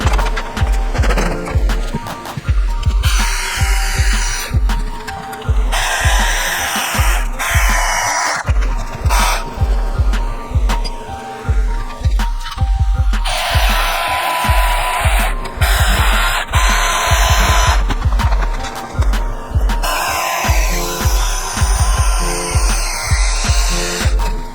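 A power tool cuts through BMW E30 BC coilover parts in a workshop, a loud, harsh grinding whine in repeated bursts with brief pauses between passes throughout.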